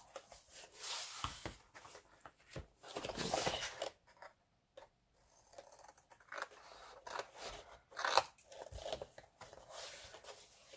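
Scissors snip the corners of paper for a handmade recipe album, giving a string of soft, close crisp cuts and rustles, fairly quiet throughout.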